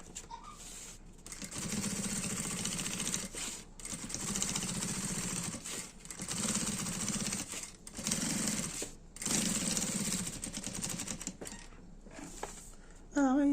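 A sewing machine stitches a bag lining in several long, steady buzzing runs separated by brief pauses, close and loud, as the bobbin thread runs out; a short burst of speech comes at the end.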